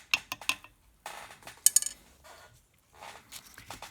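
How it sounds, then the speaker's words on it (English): Shellac stirred into paint, making light tapping and scraping of a stirring tool in a container in short irregular bursts, close and fairly quiet. "And I'm just going to mix it up"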